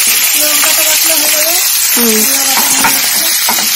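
Tengra fish frying in a pan, a steady loud sizzle running throughout with scraping stirs, while a voice talks over it.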